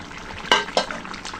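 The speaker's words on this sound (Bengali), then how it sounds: "ঢাকনা তুলে দিচ্ছি" A metal lid lifted off a pot of curry cooking with onions, shrimp and greens, two quick clanks against the rim over a soft background sizzle.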